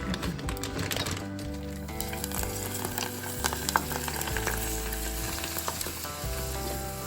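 Gujarati fried snacks such as fafda and bhungla cooking in hot oil for a festive meal: a dense, continuous sizzle and crackle, fairly close, with a steady tonal hum underneath.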